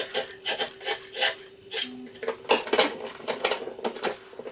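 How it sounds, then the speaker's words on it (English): Sharp wood chisels pare thin shavings in a workshop, giving a close series of rhythmic dry scraping and slicing strokes with brief pauses between cuts. "I had to make a few shavings just to make sure they were still sharp"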